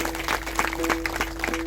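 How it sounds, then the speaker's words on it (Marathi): A crowd at a Marathi Varkari kirtan claps in a steady rhythm, soft regular claps under a sustained musical drone tone. "टाळी वाजवायची"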